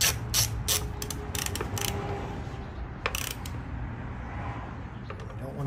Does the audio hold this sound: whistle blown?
no